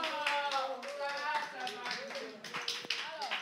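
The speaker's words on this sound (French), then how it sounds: "on les applaudit encore une fois, s'il vous plaît." An audience claps for a dance group at a live dance show, with a scattering of hand claps mixed under loud cheering voices and shouting.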